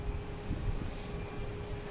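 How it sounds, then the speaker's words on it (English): A Cape Air Cessna 402 twin-prop taking off, a faint, steady distant engine drone under airport ambience with no talking. "So we got a Cape Air taking off the Martha's Vineyard, Cessna 402"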